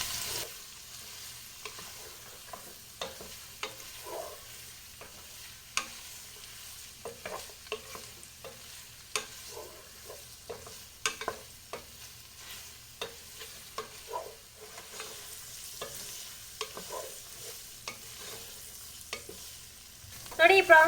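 Prawns fry in a pan for a Sigadi-style roast, giving a quiet, low sizzle broken by scattered scraping and tapping from stirring, with a louder clatter right at the end.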